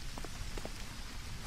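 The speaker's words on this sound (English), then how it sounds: "You, raindrops, clean it up." Steady rain pattering on surfaces in the Thief 2 video game, a constant soft hiss with faint scattered drops, fairly quiet and unbroken.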